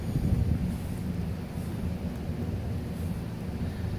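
A stormy night outdoors, with a steady heavy roar of wind and rain and deep low rumbling that runs on without break.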